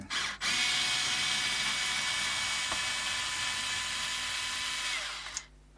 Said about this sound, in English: Out come the tremolo screws, all 4 of them.